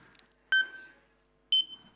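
Two short electronic countdown timer beeps sound a second apart, clean and fairly quiet, each with a brief ringing tail against a faint steady hum.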